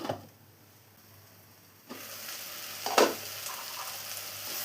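Tomatoes sautéing in a pan for paneer mushroom masala: a quiet sizzle that swells into steady frying after a lull, with a sharper burst of stirring midway.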